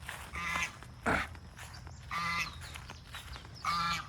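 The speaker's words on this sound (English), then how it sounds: "I think this is a Canadian goose right here" Honking calls from a Canada goose near ducks on an island shore, three or four nasal bursts spaced about a second apart, moderately close with outdoor background.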